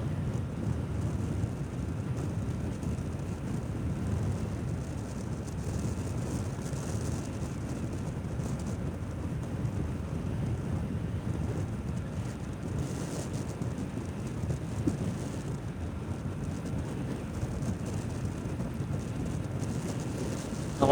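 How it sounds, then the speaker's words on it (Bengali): Strong wind buffets the microphone with a continuous low rumble and roar, steady throughout on a road journey by bike. "হেভি বাতাস, বাতাস হেভি চাপে,"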